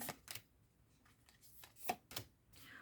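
Quiet crisp snaps and soft rustles of cards being handled and drawn, several short bursts in a hushed room.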